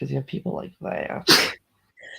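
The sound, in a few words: sneeze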